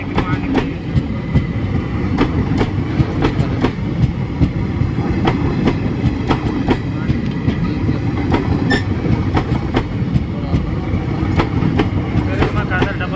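An Indian Railways special train from Fazilka to Delhi running along the track, a steady rumble with rhythmic wheel clicks over the rail joints, continuous and fairly close, with voices talking over it.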